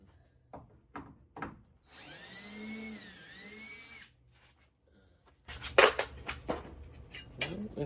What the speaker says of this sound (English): I gotta take some of the screws I put back in out